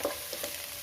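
Beef roast being stirred in a frying pan, with a brief soft scrape and sizzle, quiet and close with no talking.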